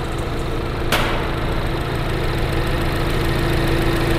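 A third-generation Mini Cooper S JCW engine idles steadily under the open hood, a close, even hum with a brief click near the start and no talking.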